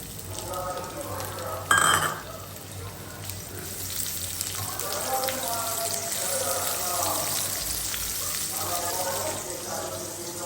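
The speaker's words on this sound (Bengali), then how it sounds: "এখানে প্যানটার মধ্যে তেল দিয়ে দিয়েছি, আমি পেঁয়াজ কুচিটা দিয়ে দিব।" Chopped onion fries in oil in a pan with a soft, steady sizzle. A utensil clatters sharply once early on, and a voice talks over the cooking.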